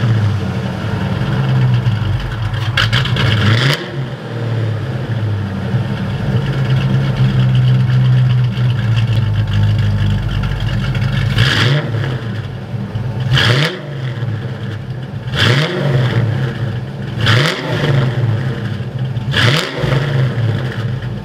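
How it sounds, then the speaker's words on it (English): A Ford Foxbody Mustang V8 that burns oil fires up and idles with a rough, loud rumble, then is revved in several sharp, evenly spaced bursts that drop back to idle between each. "I'm gonna go and fire it up, see if it runs any better"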